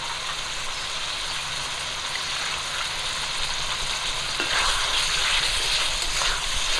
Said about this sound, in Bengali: সর্ষে বাটাটা দিয়ে কিছুক্ষণ ভাজা করে নেব